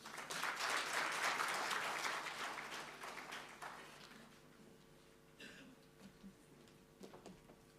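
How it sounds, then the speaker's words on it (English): An audience applauds after a speech at the release of the 2023 census preliminary report, loud clapping at first that gradually fades to scattered claps, with some murmuring voices. "Another round of applause."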